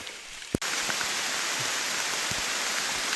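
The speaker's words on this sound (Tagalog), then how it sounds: "grabe lakas ng ulan" Heavy rain pours down in a constant loud hiss on Mt. Mantalingahan, with a brief knock at the start before the downpour fills everything.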